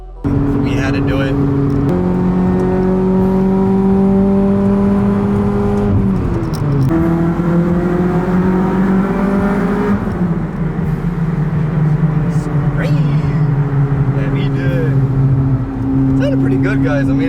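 Acura TSX CL9 with an RRC Type R intake manifold, driving: a steady, loud engine drone with rising harmonic tones as it pulls through the gears, a shift dip near six and ten seconds, with speech over it.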